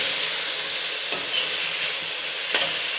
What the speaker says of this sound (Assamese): মাংসখিনি দি দিম। দি পেলাই মই অলপ সময় লৰাই থাকিম।